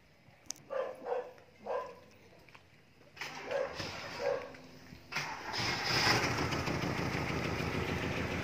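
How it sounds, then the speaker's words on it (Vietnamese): A 2003 Daewoo Nubira engine is started, with a faint dog bark or two and small knocks early on, then the motor catches and settles into a steady idle that grows louder and stays constant to the end. "Đó, xe đã được nổ máy rồi đó chị."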